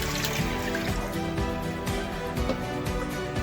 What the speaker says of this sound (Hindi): तो इसमें मैं तकरीबन 2 गिलास पानी के डालूँगी